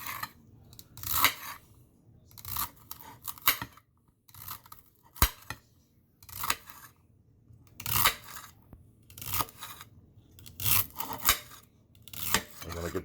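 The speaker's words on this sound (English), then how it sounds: "I'm using this plastic knife, which is really sharp." A sharp plastic knife slicing vegetables during cooking, crisp rhythmic cutting strokes in short bursts with pauses between, close and fairly quiet.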